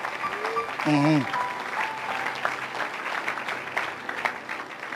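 A church congregation claps and applauds during a lively worship service, a continuous wash of hand claps with a voice calling out over it.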